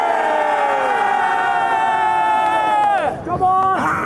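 Crowd at a sports medal celebration raising a loud sustained cheer with voices and shouting, near and dense, dipping briefly before rising again.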